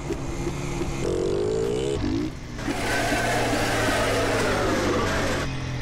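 A small motorcycle in GTA San Andreas revs and weaves through heavy traffic, its engine whining up and down in pitch, loud and close, with a brief dip in sound midway through.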